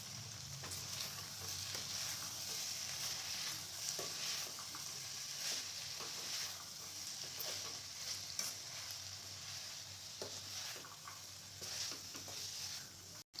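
Continuous sizzling of mixed vegetables frying in a pan, with soft scraping and clinking as they are stirred, close and fairly quiet.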